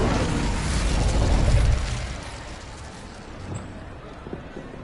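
A fire spell cast in Hogwarts Legacy bursts into a loud whooshing blast that swells over the first two seconds, then fades to a low rumble with a few small crackles.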